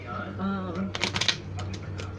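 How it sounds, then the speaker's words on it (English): Tarot cards being shuffled produce a brief flurry of crisp riffling and flicking, heard close up against a steady low background hum, with a voice talking just before. "I do like to shuffle the cards"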